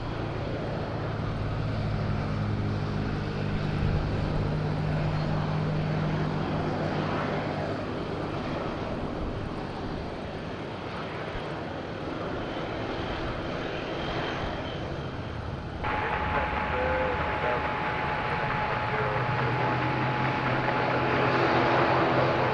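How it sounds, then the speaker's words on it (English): A Smartwings airliner arrives at Madeira Airport with a continuous, fairly loud jet engine roar that swells and shifts in pitch as it passes, heard alone and without voices. "Here he comes, Smart Wings."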